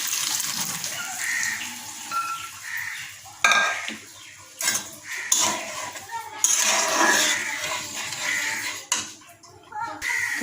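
Dal goes into a spiced pan of onion, green chilli, turmeric, cumin and garlic, followed by close scraping and stirring, metal clinks on the pan and a brief run of water, with a voice speaking now and then.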